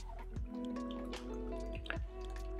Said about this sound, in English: So strain your cocktail.